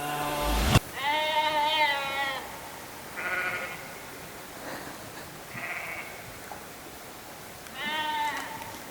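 Goats bleat loudly and nearby in several separate, wavering calls with pauses between them, after a sharp knock at the start, outdoors at a campsite in Big Bend.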